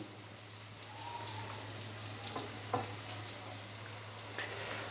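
Pieces of taro root (arbi) fry in hot oil, a steady soft sizzle with faint crackles and an occasional stir or pop, close and even throughout.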